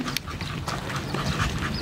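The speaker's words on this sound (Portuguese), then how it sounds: "o cachorro latiu ali" A dog barks a couple of short times, somewhat distant, over a busy outdoor background.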